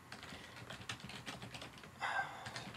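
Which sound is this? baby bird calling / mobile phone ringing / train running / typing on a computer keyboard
typing on a computer keyboard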